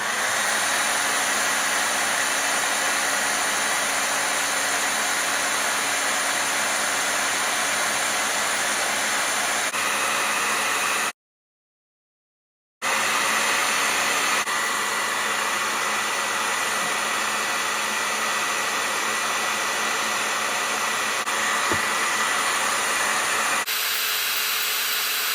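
A hair dryer running off a portable power station, blowing steadily with a loud, constant whooshing hum near 2,000 watts, cutting out for a second or two before running again.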